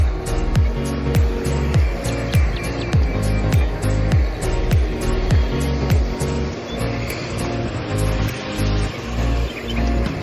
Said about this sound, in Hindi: दिखाया जा रहा आपको गाड़ी लोडिंग हो रही है